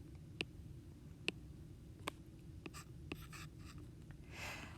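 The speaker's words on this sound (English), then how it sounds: "let's just jot that down in our notebooks" A pen or pencil writes notes in a notebook, giving faint scratching strokes broken by a few sharp taps, over a low steady background hum.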